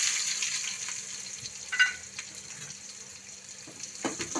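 Mustard seeds, cumin, onion and green chili fry in oil with a soft, steady sizzle, joined by faint stirring clicks and a few brief scrapes near the end, with no talking.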